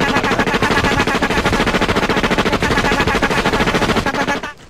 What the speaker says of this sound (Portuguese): Eu não sei atirar, mas eu vou tentar.